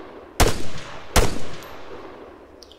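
Two sharp rifle shots in the ArmA 3 video game, evenly spaced under a second apart, each loud and cracking with a short decaying tail, no talk.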